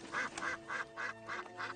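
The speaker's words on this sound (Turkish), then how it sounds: "Hey bak, ördekler de var." A row of cartoon ducks quacks in a steady rhythm, about five clear, evenly spaced quack bursts over a faint musical background with no speech.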